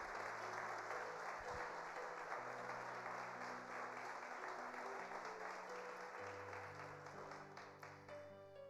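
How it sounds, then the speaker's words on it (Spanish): Loud, sustained applause from a church congregation fills the space, with organ-like keyboard chords playing underneath. "Denle un fuerte aplauso al Señor."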